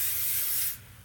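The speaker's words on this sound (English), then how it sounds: "I'm just going to grab some hairspray. I'm using my Kevin Murphy Session Spray" Kevin Murphy Session Spray hairspray released in one steady, close aerosol hiss lasting most of a second, then cutting off into quiet room tone.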